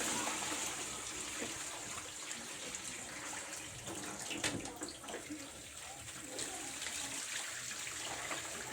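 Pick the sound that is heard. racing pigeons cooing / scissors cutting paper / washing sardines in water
washing sardines in water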